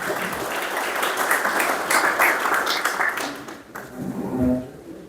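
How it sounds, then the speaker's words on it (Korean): An audience at a book launch event gives warm, sustained applause, a dense wash of many hands clapping that fades slightly near the end. "뜨거운 박수 부탁드리겠습니다."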